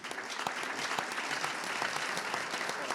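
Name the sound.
audience applauding after a conference talk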